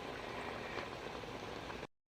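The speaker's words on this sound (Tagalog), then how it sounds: "I'm gonna cover it and simmer it for another 2 minutes." Beef shank bulalo simmers in a covered pot, giving a soft, steady bubbling hiss at low volume. The sound cuts off abruptly near the end.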